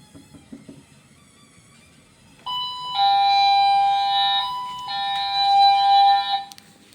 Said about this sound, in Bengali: তো আমার কলিং বেল বাজতেছে